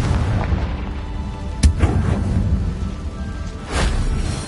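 A Confringo blasting spell in the Hogwarts Legacy video game: one sharp close boom, a smaller follow-up, and a rolling rumble near the end over steady game ambience.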